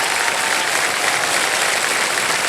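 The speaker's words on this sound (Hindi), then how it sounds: "ताली बजा दीजिए मीनाक्षी जी के लिए" Studio audience on the Kaun Banega Crorepati quiz show set bursts into sustained, even applause for a contestant, a loud dense wash of many hands clapping with no voices over it.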